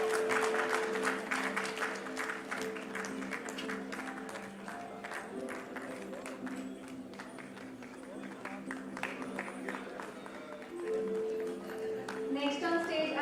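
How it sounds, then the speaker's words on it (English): Sustained applause from an audience at a live architects' event where a memento is presented, dense clapping filling the whole stretch with a steady tonal hum beneath and a swell near the end. "A huge round of applause, everyone,"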